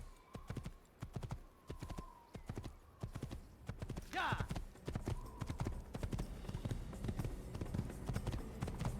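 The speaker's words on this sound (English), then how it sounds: "Let me on the horse, please." Horse hooves clip-clop steadily in Assassin's Creed (2007), a repeating rhythm of sharp strikes with a brief whinny partway through, under frequent talk.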